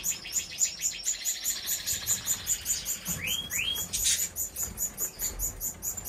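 Cage birds, including a pair of black siskins, chirp and twitter steadily and close by in an indoor bird room, with rapid repeated calls and a couple of rising whistles over constant background chatter.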